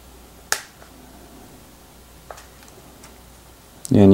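Snap-fit clips on a bamboo cover for a OnePlus One phone pop loose as a pick pries it open, a few sharp, isolated clicks spaced apart in a quiet room, followed by the start of a voice.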